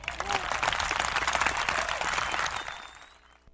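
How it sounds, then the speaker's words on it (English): Studio audience applause for a guest on a sports talk show, a dense burst of clapping that swells, holds, then tapers off toward silence. "Let's get a round of applause for our guy, Curt, again."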